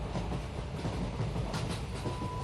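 A passenger train rolls along in a horror cartoon, a steady low rumble with a faint rhythmic clatter of wheels on the track, continuous and moderately close, with no voices.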